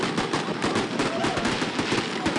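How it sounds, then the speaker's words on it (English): Fireworks set off outdoors on a Sunday morning in Frenchtown to start the annual Missoula Marathon: a rapid, continuous crackle of popping bursts, moderately loud and distant. "Fireworks lighting up the sky in Frenchtown on Sunday morning, signaling the beginning of the annual Missoula Marathon"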